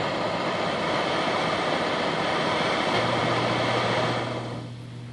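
Dense roaring static from a scientific radio receiver listening to space, a steady broadband hiss and rumble that holds level, then gains a low hum and begins to fade near the end.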